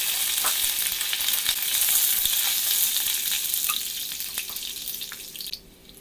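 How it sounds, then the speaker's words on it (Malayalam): Mustard seeds splutter and pop in hot oil as a chutney for dosa and idli is tempered, a loud close sizzle with scattered crackles that eases off near the end. "കടുക് ഒന്ന് പൊട്ടി വരുമ്പോൾ ഇതിലേക്ക് രണ്ട് വറ്റൽമുളക് ഇടാം, കുറച്ച് കറിവേപ്പില."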